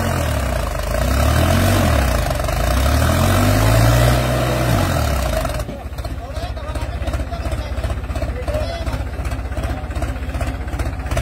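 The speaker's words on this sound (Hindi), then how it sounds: "भाई पूरे जोर लगवा जा रहे ट्रैक्टर से।" A Farmtrac 45 tractor strains in a rain-soaked muddy field, its engine roaring loud with rising and falling load before shifting to a choppier, rhythmic labouring note, with voices around it.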